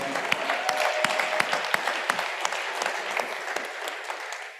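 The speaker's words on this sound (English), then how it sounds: "So can we give the team over at Oakland University a round of applause?" A conference audience applauds a university team at a summit, a dense burst of clapping with sharp individual claps standing out, steady for several seconds and then easing slightly toward the end.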